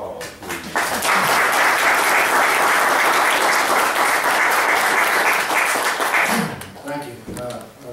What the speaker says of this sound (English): I ask you to give Chris one more round of applause, please.